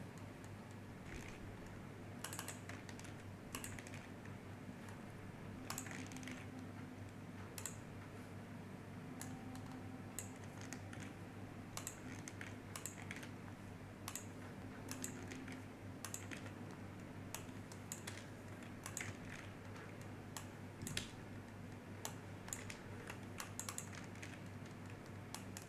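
Quiet computer keyboard typing, fast irregular bursts of key clicks over a steady low hum while filling in dummy form data on a WordPress booking site, no voices.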